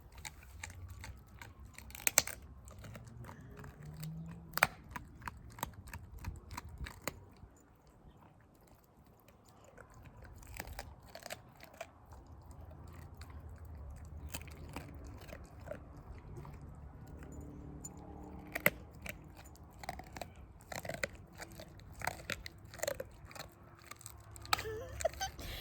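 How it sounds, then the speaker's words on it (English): Sprocket the dog gnaws a bone close to the microphone, irregular crunching bites and scraping chews continuing in uneven bursts with short lulls, faint background ambience underneath. "It's like a mini meditation of bone chewing, isn't it"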